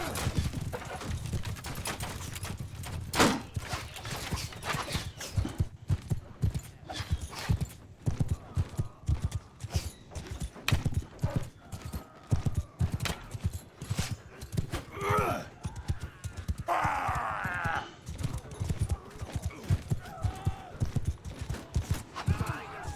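Cavalry horses charge in Mount & Blade II: Bannerlord with steady galloping hoof clatter and battle noise. The sound runs throughout, loud and busy, with occasional whinnies and talk over it.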